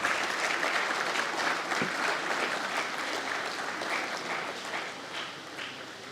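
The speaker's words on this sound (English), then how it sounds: "Then again we clap for our two experts." An audience at a veterinary college celebration claps steadily for guest experts, a moderate wash of applause in a hall that slowly tapers toward the end.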